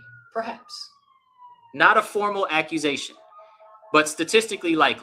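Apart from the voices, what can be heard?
police sirens outside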